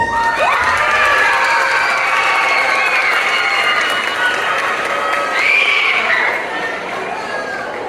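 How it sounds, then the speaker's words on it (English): A school assembly audience applauds, cheers and shouts continuously, with children's voices whooping over steady clapping throughout. "Let's give another round of applause"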